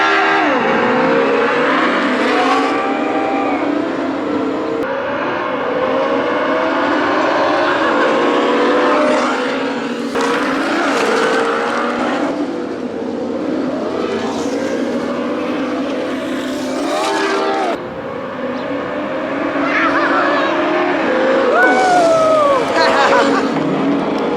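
Two Ninebot GoKart Pro electric go-karts race, their motors whining and rising in pitch again and again as they speed up and pass, while voices shout and talk over the run.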